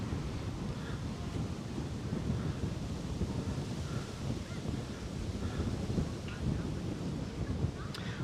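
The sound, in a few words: wind picking up on a street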